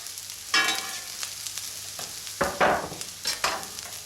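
Finely diced potatoes fry in butter in a pan for corned beef hash, stirred with scraping, clattering strokes over a steady sizzle, close and fairly loud with several distinct bursts.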